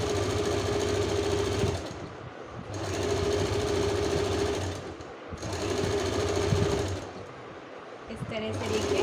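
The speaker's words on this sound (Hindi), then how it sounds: "नेक लाइन पे जो हम स्टिचिंग करेंगे वो बिल्कुल माइनर सा फैब्रिक लेते हुए करेंगे" A sewing machine stitches the neckline of a yellow blouse in three sustained runs of fast, even mechanical whirring, each separated by a short pause, loud and close.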